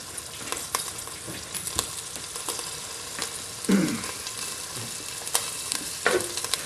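Diced onion, carrot, celery and garlic sizzle in a film of vegetable oil in a pan for a Bolognese sauce, a soft steady crackle with occasional louder spatters and stirring scrapes.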